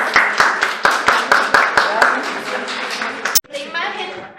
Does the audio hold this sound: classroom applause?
yes